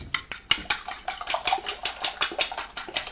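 A utensil whisks eggs and orange juice in a bowl, producing a fast, steady series of bright clinking taps against the dish, close and evenly rhythmic throughout, with no talking.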